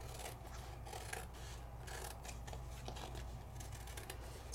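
Scissors snip and rasp through excess paper in quick repeated cuts, a faint close crisp trimming over low background hum.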